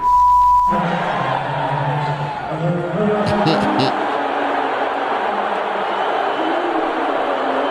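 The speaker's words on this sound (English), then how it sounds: "They booing him?" A crowd at a Madison Square Garden Knicks game boos Trump, a loud, sustained roar that fills the whole stretch after a brief electronic tone at the very start.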